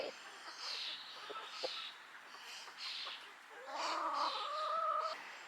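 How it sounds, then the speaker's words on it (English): Olive egger chickens, a young rooster and three hens, cluck and chirp close by in bursts, growing louder and more tonal toward the end, with no talking. "We got 1 rooster and 3 hens."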